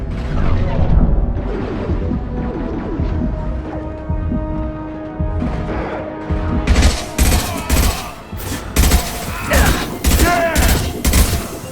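Mass Effect 2 combat with rapid gunfire bursts and heavy booming concussive blasts, loud and close, dense volleys that intensify into sharp repeated shots in the second half, with game voices talking over the action.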